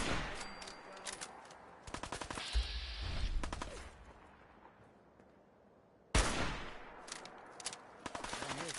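Gunfire from the video game Fallout 4 comes in bursts of rapid shots, a cluster around two to four seconds, then a loud volley returning near six seconds and continuing to the end, with quieter game ambience between.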